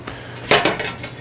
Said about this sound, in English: Grab a couple of pans.